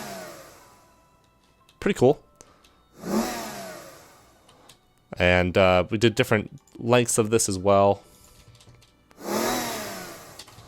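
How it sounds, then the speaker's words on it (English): A car engine is revved with a microphone held close to it, giving several rising, whooshing roars separated by pauses, while someone talks between the bursts. "I just held a microphone up to a car engine and just revved the engine"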